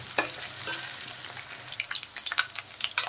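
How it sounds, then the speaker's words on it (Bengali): Potatoes fry in a pan with a continuous sizzle, broken by stirring scrapes and small clinks that grow busier toward the end. "প্রথমে আমি আলু ভালো করে ভেজে নেব।"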